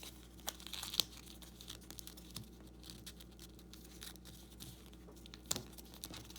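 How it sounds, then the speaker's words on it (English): A sheet of paper is folded and creased by hand, producing soft, close crinkling and rustling with a few sharper crackles over a quiet background. "Now you want to take this one, fold it inside"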